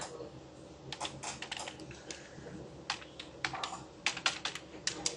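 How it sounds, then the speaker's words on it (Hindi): Typing on a computer keyboard while writing an SQL query: quiet, close clusters of key clicks in irregular bursts with short pauses, no talking. "तो मैं कोटेशन में लिख देता हूँ अहमद,"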